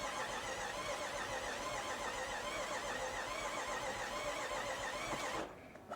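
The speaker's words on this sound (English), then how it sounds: "I'm gonna crank it." A Range Rover Velar with a crank-no-start fault turns over on its starter without firing, a continuous whirring crank heard steadily at moderate level until it cuts off near the end.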